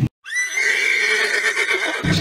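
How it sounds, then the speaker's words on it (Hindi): A horse gives one long, loud, shrill whinny that starts right after a short pause and holds steady for nearly two seconds, close by and with no talking. "चलो मेरे घोड़े, चलो मेरे घोड़े।"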